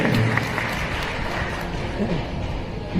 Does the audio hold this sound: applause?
yes